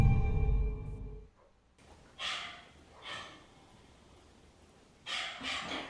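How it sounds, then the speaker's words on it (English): Dogs bark in a few short, separated bursts at a moderate distance, with quiet gaps in between and a louder rumbling noise before the first bark. "Mga aso talaga."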